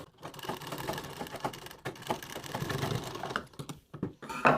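Sewing machine stitching blouse fabric, an uneven close mechanical clatter in short bursts with brief pauses between runs.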